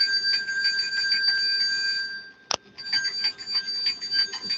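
A Salvation Army Christmas kettle hand bell rings continuously in bright, rapid metallic peals. The ringing breaks off briefly around a sharp click, then resumes at a steady, moderately close level.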